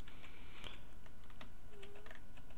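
Computer keyboard keys pressed while working in the Mapster32 map editor's 3D mode, making scattered soft clicks and taps close by over a faint steady hum, with no talking.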